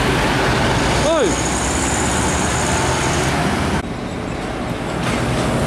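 A Mitsubishi Fuso Super Great trailer truck, running empty, rumbles past in steady roadway traffic, loud and close, with a short horn-like tonal sweep early on and a drop in the noise as it moves off.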